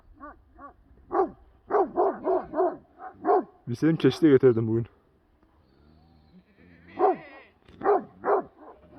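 Several livestock guardian dogs bark in bursts, some close and loud, while someone talks over them; a quieter stretch in the middle before the barking resumes.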